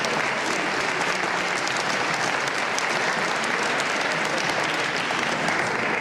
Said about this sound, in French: Je pense qu'on peut déjà pas mal l'applaudir.